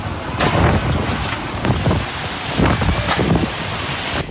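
A strong storm wind gusts and roars during a violent thunderstorm over Ljubljana, lifting roofs around the city, a continuous loud broadband rush buffeting the microphone with repeated surges.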